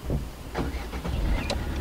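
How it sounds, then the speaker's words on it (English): A Tata Zest car engine cranks and catches, a few rough turnover bursts followed by a steady low rumble, close by. "Only then will the car start."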